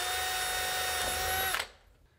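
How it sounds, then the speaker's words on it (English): Power drill boring an anchor hole through a metal door strike jamb into the wall jamb during a swing door installation, a loud close steady whine for about a second and a half before stopping abruptly. "I'm going to drill"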